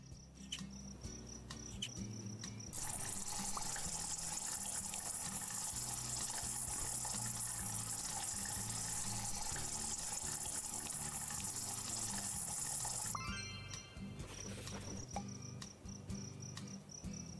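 A water dispenser in a rhinoceros enclosure in the video game Zoo Simulator gushes steadily for about ten seconds, a bright continuous rush over a constant cricket-like insect chirr that runs throughout.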